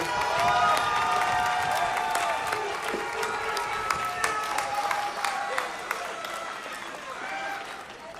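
Graduation audience at a college commencement gives a sustained round of applause, dense clapping with cheers and voices mixed in, steady and loud throughout.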